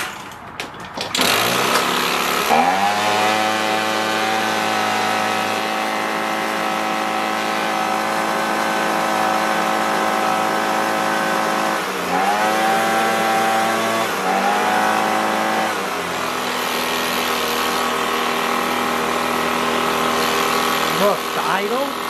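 An Echo PB265LN leaf blower with a small two-stroke engine, recovered from a seizure, starts and runs near and loud, idling and revving in a few throttle surges, with someone talking over it.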